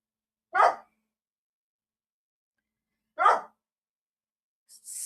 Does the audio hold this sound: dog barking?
yes